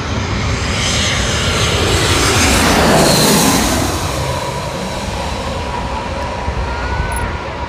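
Airliner passing low over Gravelly Point Park near Reagan Airport: a loud, broad jet roar swells to a peak around the midpoint, then slowly fades while still rumbling.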